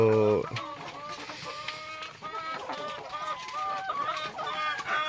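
Laying hens cluck and squawk in a busy flock close by, with overlapping calls throughout and a brief voice at the very start.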